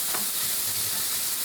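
Chorizo fries in a pan with a steady, loud, close sizzle, and a faint scrape of chopping or stirring comes near the start.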